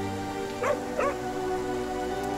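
Kevin, the dog in Overcooked 2, gives two quick high yips about a third of a second apart, over a steady droning game music bed.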